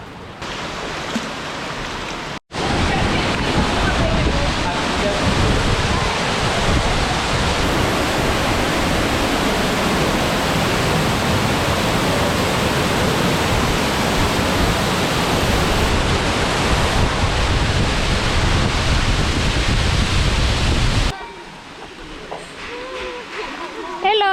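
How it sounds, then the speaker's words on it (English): A waterfall at the end of a canyon trail in Ubud, Bali, gives a loud, steady roar of falling water that lasts for about twenty seconds and then drops away abruptly. "But the waterfall that appeared at the end of the trail was totally worth it."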